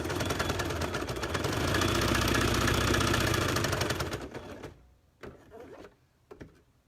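Sewing machine stitching a face mask runs at a steady, loud mechanical whir for about four seconds, then stops, leaving a few short clicks and bumps.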